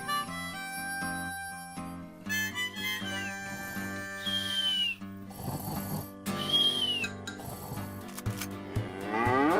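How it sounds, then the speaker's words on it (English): Repeated cow moos sound in a video game over a layered music soundtrack, the low lowing calls rising and falling across the clip at steady loudness with no talking. "Did I just kill a cow?"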